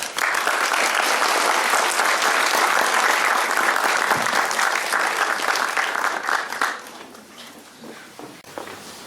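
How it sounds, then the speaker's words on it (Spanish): An audience at a book presentation applauds at length, loud dense clapping from many hands that thins out and fades to a few scattered claps near the end. "el trabajo de Jorge merece el aplauso de todos ustedes"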